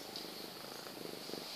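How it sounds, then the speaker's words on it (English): A cat purrs softly up close, a low rhythmic rumble of quick pulses that carries on steadily, quiet and alone without any voices. "And it's purring, too."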